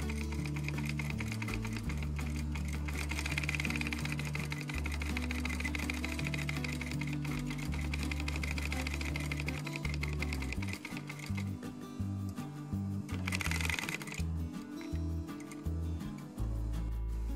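A sewing machine stitches a seam across a folded zip for a box cushion, running as a steady close mechanical whir with rapid ticking that slows and stutters near the end.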